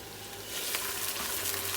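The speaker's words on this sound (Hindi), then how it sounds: "मैं कर रही हूँ इस वक्त प्याज ब्राउन" Onions browning and frying in a pot for a potato and chicken biryani, a steady hissing sizzle that swells louder after the first half-second and holds, close and continuous with no talk.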